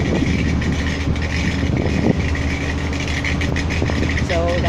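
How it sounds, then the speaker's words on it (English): An overloaded sugarcane truck rumbles past with its mud flaps dragging on the ground, a steady heavy engine drone and continuous scraping noise, fairly loud and close, with no clear speech over it. "so loaded down that the mud flaps are dragging on the ground."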